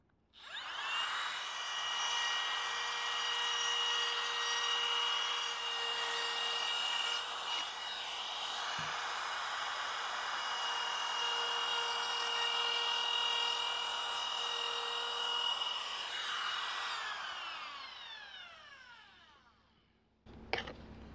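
A router fitted with an upcut flush-cut bit cuts veneer with a loud, continuous high whine that holds for about eighteen seconds, then winds down and ends with a brief knock.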